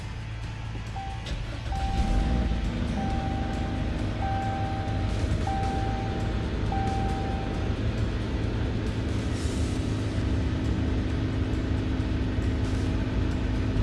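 A 2016 Chrysler 200 Limited's engine starts by push button and settles into a steady low idle after a few soft chimes.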